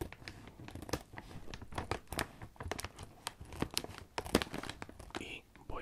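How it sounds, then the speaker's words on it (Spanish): Crinkly tearing and crunching as scissors cut across the top of a bag of extra-spicy potato chips, with close, sharp, irregular rustles and snips. "vamos a cortar la parte de arriba con unas tijeras"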